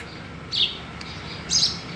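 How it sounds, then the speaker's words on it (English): Sparrows give two short, bright chirps about a second apart, fairly close, over a steady low background hum. "I can see some sparrows inside."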